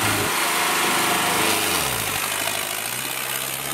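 A Sonalika 60 tractor engine runs loud and steady at close range during a harrow-pulling contest, with its drone dipping and shifting pitch partway through. No voices are heard.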